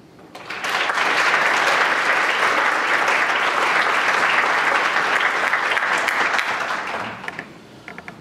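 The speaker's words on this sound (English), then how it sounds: "please rise and join me in a round of applause to honor the teachers, friends, and loved ones" Audience applause at a National Honor Society induction ceremony, honoring teachers, friends and loved ones. The clapping swells in quickly, holds as a dense, steady roar for several seconds, then thins to a few scattered claps at the end.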